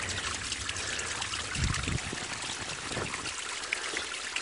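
Steady rushing water flows continuously through a Davey pump under pressure, a constant hiss with a few low gurgles, no voices.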